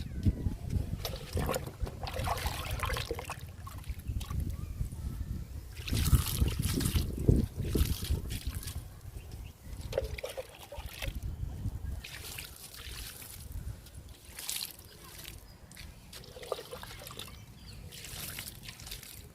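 Liquid fertilizer splashes and trickles from a container onto potted lily plants in a garden, an uneven, close sloshing pour that comes in several bursts.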